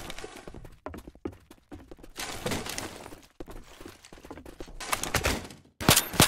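Automatic weapon fire from the video game Left 4 Dead 2, heard as bursts of rapid shots with short gaps between them, plus clattering impacts and a louder burst near the end, with no talking.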